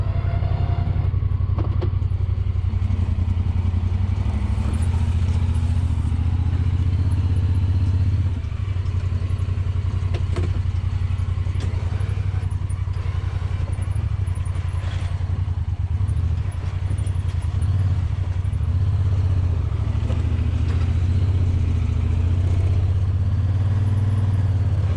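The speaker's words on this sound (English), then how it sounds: "make sure that the side-by-side is in 4-wheel drive so that the differentials are locked" A Honda Pioneer 1000 side-by-side drives in low gear and four-wheel drive in Northern Ontario, its engine a steady, close, low rumble with rattling clatter throughout, no talking.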